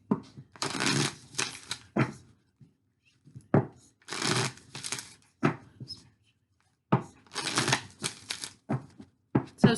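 Oracle cards are shuffled in quick riffling bursts, loud and close, several rounds separated by short pauses with a few taps between them.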